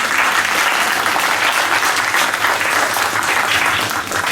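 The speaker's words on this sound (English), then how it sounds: "Let's give them all a big round of applause." Loud, sustained applause from parents at a school orientation for a class, many hands clapping in a thick, even roar that holds steady throughout.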